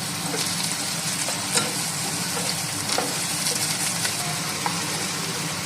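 Potatoes frying in mustard oil with a little onion, giving a steady close sizzle with occasional stirring clicks and scrapes throughout, and no voices.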